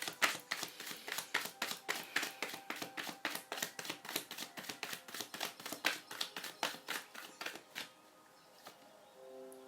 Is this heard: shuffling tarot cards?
yes